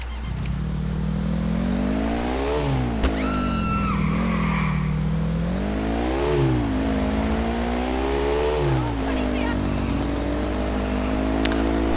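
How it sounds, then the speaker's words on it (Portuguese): A motorcycle engine in the video game GTA IV revs up and down in repeated rising and falling sweeps over a constant low hum, loud and close, with a brief skid in the middle. "As motos aqui não andam em nada."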